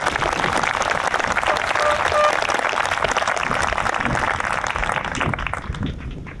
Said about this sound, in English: For Laura, Emily, and Stephanie, one more round of applause.